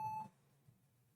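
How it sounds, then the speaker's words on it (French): A third-generation Lenovo ThinkPad X1 Carbon laptop with a black-screen fault sounds one short, bright electronic error beep, which then cuts off to near silence. "Bip bip. J'ai des bips différents maintenant."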